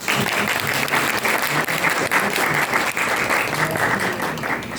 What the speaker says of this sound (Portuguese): Vamos receber com carinho uma salva de palmas a nossa querida professora